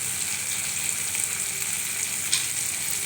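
Chopped green chillies sauté in hot oil for carrot chutney, a steady close crackling sizzle that runs throughout with a brief louder pop near the end.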